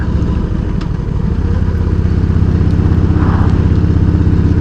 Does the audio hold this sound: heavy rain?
no